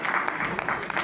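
An audience applauds to welcome a poet at a Hindi poetry recital. The clapping is steady and dense, fills the whole short moment and has no voices over it.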